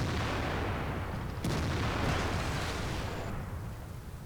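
Gunfire in a video game booms out in a heavy, rumbling blast, one sharp report cracking partway through a dense, loud wash of artillery-like noise that slowly thins toward the end.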